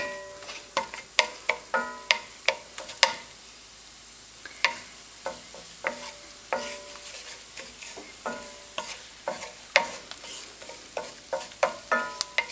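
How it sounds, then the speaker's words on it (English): Garlic sautés in a pan for sloppy joes, up close, with a soft steady sizzle under repeated sharp scrapes and clinks of a utensil stirring, and no one speaking. "I love the smell of garlic getting sauteed."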